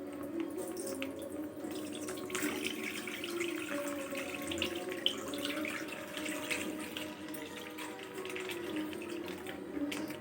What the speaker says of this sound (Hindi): लीटर फुल क्रीम दूध लिया है। अब इसको हम इसमें डाल देते हैं।